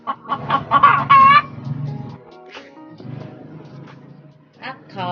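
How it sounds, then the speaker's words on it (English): A chicken clucks and crows, opening with a loud rising cackling burst, then lower rhythmic clucks and scattered calls, ending with another short squawk; close and fairly loud. "a chicken,"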